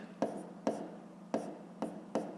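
A pen writes numbers in a school math notebook: five short, distinct scratching strokes spaced at a regular pace, quiet and close, with no voices.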